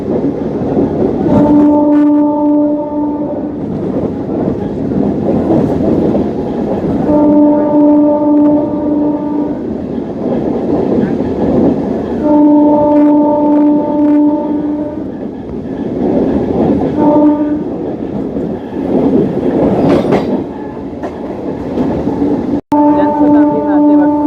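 A local MEMU train on the Durg–Gondia line near the Darekasa ghat sounds its horn in several long, loud, steady blasts, with rolling rail noise underneath throughout.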